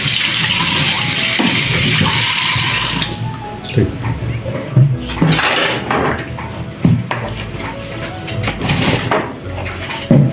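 A kitchen knife or utensil being washed under a running tap while making Nigerian-style yam and tomato sauce for breakfast; steady water rush at first, then clinks and knocks against a sink and dishes, with some speech in the background.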